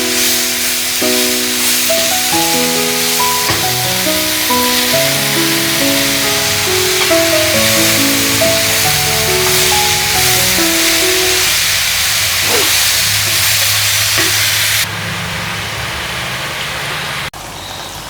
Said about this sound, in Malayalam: ഇനി നമുക്ക് കൂണിട്ട് കഴിഞ്ഞാൽ പിന്നെ അതിലെ വെള്ളം വറ്റിച്ചെടുക്കണം